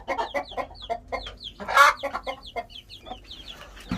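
Hens cluck repeatedly in a somewhat cluttered coop, with high chick peeps mixed in and one louder squawk midway, close and clear with no talking.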